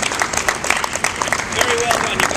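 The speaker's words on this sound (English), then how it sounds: "we need to give ourselves, as a group, as a team that worked on this project, a huge round of applause" A team audience applauds at the close of a project speech, with scattered hand claps crackling through steady crowd noise and overlapping voices for the whole stretch.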